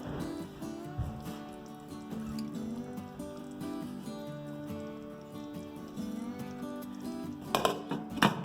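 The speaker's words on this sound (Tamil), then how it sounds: "ஸோ அதனால் நான் வந்து லிட்டை போட்டு க்ளோஸ் பண்ண போகிறேன்." A few metallic clinks of a lid settling onto a pot of simmering milagu kuzhambu near the end, over a steady low kitchen hum.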